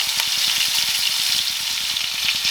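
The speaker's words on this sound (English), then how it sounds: "I'm going to melt some butter on top of them" Butter melting and sizzling on burgers in a hot pan, a loud continuous frying hiss with a fast steady crackle underneath.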